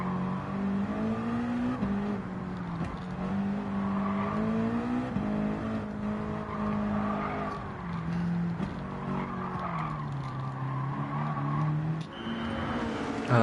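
A NASCAR stock car in a racing video game, its engine droning and shifting pitch continuously as it slows down to enter the pits, with a brief tire squeal.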